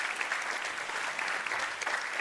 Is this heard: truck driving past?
no